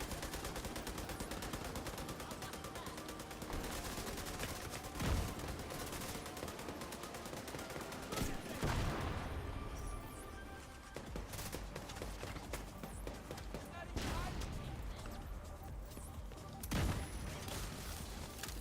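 Rapid gunfire and booming grenade blasts fill a battle in The Division 2, with dense continuous automatic shooting and several heavy explosions throughout.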